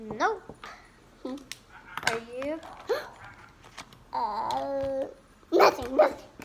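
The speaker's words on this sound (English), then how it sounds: "That's just our neighbor's dog." A neighbour's dog barks and whimpers in short, yelping bursts nearby indoors, interleaved with people talking close to the microphone.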